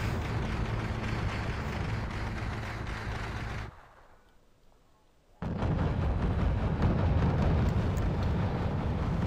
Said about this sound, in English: I find the enemy command vehicle and send my BTRs to shoot it